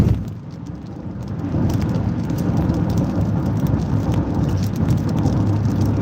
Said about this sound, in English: well, it's raining, yeah.